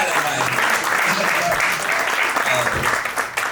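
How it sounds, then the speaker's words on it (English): A room of attendees claps loudly through the whole stretch at an education talk, dense and sustained applause with a few faint voices mixed underneath. "Well, give them a round of applause."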